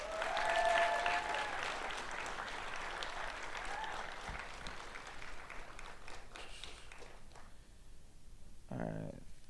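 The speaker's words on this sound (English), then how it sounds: "Ladies and gentlemen, give a round of applause for Dr." Sustained audience applause at a keynote event, a dense crowd of clapping hands rising loudly at first then thinning toward the end, with faint voices under it and a brief speaking voice as the ovation fades.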